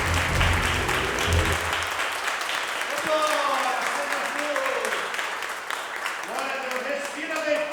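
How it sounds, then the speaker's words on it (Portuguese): A church congregation claps and applauds together, a sustained wash of hand claps with voices and cheering mixed in, continuing steadily throughout. "aplaude o Senhor, em nome de Jesus."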